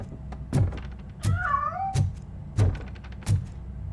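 A cat meowing in the game Robocop: Rogue City, one drawn-out plaintive meow mid-clip amid several heavy mechanical thunks, loud and close.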